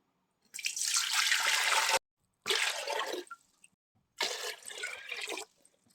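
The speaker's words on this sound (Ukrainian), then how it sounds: "треба взяти велику кастрюлю і налити туди 3 літра води" Water gushes from a tap into a large pot in three separate bursts, a strong splashing pour with short silent gaps between, close and loud.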